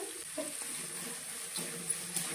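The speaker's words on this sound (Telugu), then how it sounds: "ఆనియన్స్ తొందరగా ఫ్రై కావడానికి కొంచెం అయితే సాల్ట్ అయితే వేస్తున్నా." Onions with curry leaves, salt and turmeric frying in oil for a prawn curry, a steady broadband sizzle throughout with a few soft stirring scrapes, close and moderately loud, no voices.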